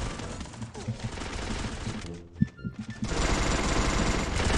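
Gunfire in the Free Fire battle royale game, a dense rapid burst of automatic shots that drops out briefly, then a single sharp crack before sustained firing resumes loud and close.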